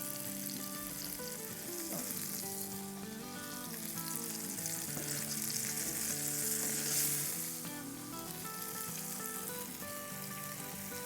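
Gola kababs fry in hot oil with a dense, continuous sizzle that swells briefly in the middle, close and steady throughout with no voices.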